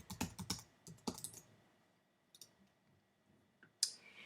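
Short bursts of clicking keystrokes on a computer keyboard as a password is typed, a few quick taps at close range separated by quiet pauses.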